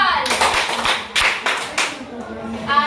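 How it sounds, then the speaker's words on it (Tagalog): A grade 4 class claps for group 1 during a lesson, giving a few loud, close hand claps in quick bursts, with voices of children and an adult mixed in the room. "Bigyan natin ng 3 palakpak ang group 1"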